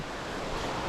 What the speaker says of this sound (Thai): นี่เสียงน้ำไหมครับ